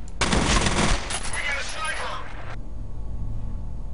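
Sniper gunfire in the video game F.E.A.R., a burst of loud, harsh gunfire up front that tails off into a rumbling decay, with a person talking over it.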